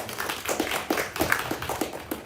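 An audience at a conference session claps together in a moderate, steady patter of hand claps lasting a couple of seconds, with no voices over it.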